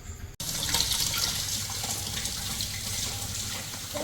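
Running tap water streams steadily into a sink as freshly picked produce is rinsed, a close, continuous splashing rush that starts abruptly after a brief moment and carries on without pause.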